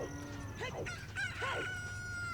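A rooster crows in the video game Zelda: Ocarina of Time on Death Mountain, a brief, faint cock-a-doodle-doo in a few stuttering syllables over a low steady game background hum.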